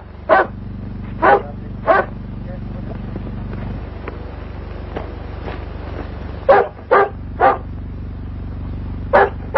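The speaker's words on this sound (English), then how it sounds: "That's no wolf, it's a dog." A dog barks at night after rain in a 1938 film, with sharp, fairly close barks in two clusters of three or four over a steady background hum.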